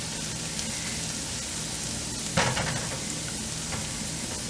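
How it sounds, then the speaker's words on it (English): Vegetables and peppers sizzle steadily in a hot pan for cauliflower dirty rice, a constant close frying hiss with a brief clatter of stirring midway. "we are going to saute this down"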